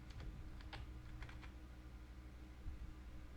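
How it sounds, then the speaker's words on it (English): Computer keyboard typing of a product category name, a few quiet keystroke clusters over a steady low background hum, with no talking. "I click here and type the product category name"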